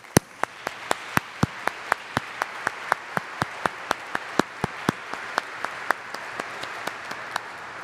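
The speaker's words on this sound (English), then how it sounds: "please join me in applauding the success of this very special class" Steady, evenly spaced claps ring out at a graduation ceremony for La Salle Academy's Class of 2020, sounding sparse and distinct rather than like a dense crowd, keeping an even rhythm throughout.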